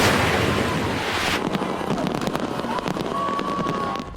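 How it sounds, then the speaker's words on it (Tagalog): A New Year fireworks display explodes at the Kapuso Countdown to 2026 in Pasay City: a dense, loud wash of crackling bursts, then scattered sharper pops and bangs ringing out in the open air. "Nagliwanag ang kalangitan sa pagsabog ng fireworks display sa engranding Kapuso Countdown to 2026 sa Pasay City."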